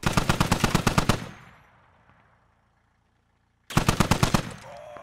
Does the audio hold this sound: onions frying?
no